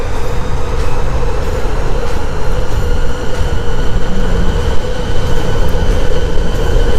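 Zealot belt-drive electric skateboard running at top speed in turbo mode, a loud, steady rumble of wheels and motor with wind noise, continuous for the whole stretch with no talking.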